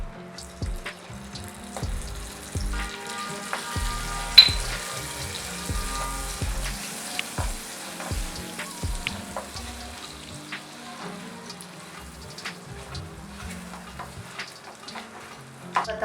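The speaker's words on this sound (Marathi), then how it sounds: "बदाम व्यवस्थित कॅरमलाइज व्हायला लागल्यात। आता या स्टेजला मी यामध्ये बटर घालत आहे" Almonds caramelizing with butter sizzle quietly in a pan, a low, continuous crackle broken by scattered clicks and occasional scraping stirs, fairly close and without talk.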